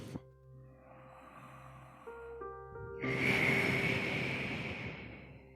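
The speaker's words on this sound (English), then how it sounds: "Let's take one more deep breath." A slow, deep yoga breath draws in and releases midway, rising audibly over a soft, sustained tonal background in a quiet room.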